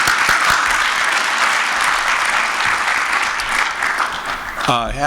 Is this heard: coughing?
no